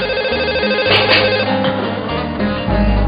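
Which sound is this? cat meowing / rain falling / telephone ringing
telephone ringing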